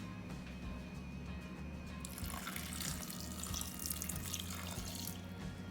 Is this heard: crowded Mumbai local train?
no